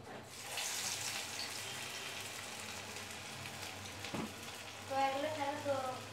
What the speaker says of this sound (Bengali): এখন ভাজা হবে